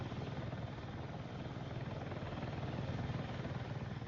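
An AH-64 attack helicopter in Battlefield 6, its rotor and engine producing a steady, loud, even drone with a fast chopping pulse, no voices over it.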